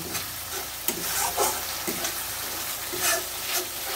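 Onion paste sizzles and fries in a pan for a potato and bata fish curry, with a steady hiss and the regular scrape of a spoon stirring through it, close up.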